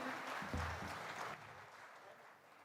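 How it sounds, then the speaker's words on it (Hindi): An audience at a fine arts society music evening breaks into applause, a soft dense patter of clapping that starts fuller and tapers off toward the end, with a voice briefly heard over it. "चलो जरा जोरदार तालियां इनके लिए"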